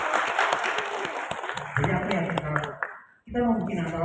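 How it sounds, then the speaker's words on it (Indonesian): An audience at a literacy and writing seminar in the Bung Karno library applauds after being asked, clapping steadily for about three seconds amid room noise, breaking off abruptly near the end before voices resume. "boleh nggak aku minta tepuk tangan?"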